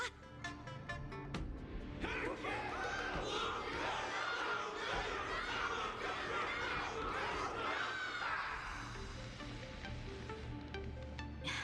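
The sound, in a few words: crowd cheering in video game Honkai Star Rail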